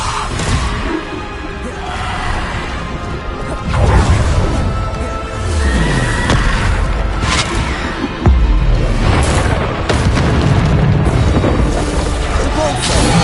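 Bombarda explosion spells from a Hogwarts video game boom repeatedly under loud game noise and whooshes, with heavy thumps around four and eight seconds while a voice calls out spell names.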